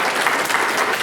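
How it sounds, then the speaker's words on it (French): A crowd at an eloquence stage event applauds, a steady wash of many hands clapping, close and fairly loud, lasting about a second. "Donc, applaudissez-le."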